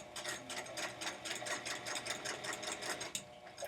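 A sewing machine with a knee lift stitches a fabric face mask, a steady rapid mechanical whirring and clatter running close and continuous throughout.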